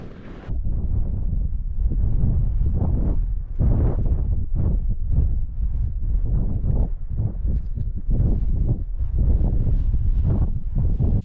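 Strong, bitterly cold winter wind buffets the microphone at a wild camp in the Scottish Highlands, a steady loud roar with gusting surges and rustling, and no talk.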